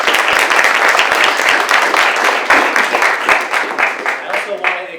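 Loud, close applause from an event audience at a transportation-focused community gathering, dense clapping with distinct individual claps standing out, sustained throughout and easing a little toward the end, with faint voices beneath.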